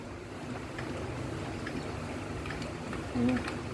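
A Kubota RT140 single-cylinder engine, bored out to 155, runs steadily and loudly up close with a rough, throbbing low drone that holds without pause, and faint voices are audible beneath it.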